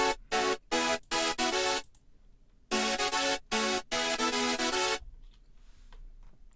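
Hardstyle synth lead in FL Studio with OTT compression, loud bright chopped notes in two rhythmic phrases of short stabs and held tones, ending in a quiet faint tail.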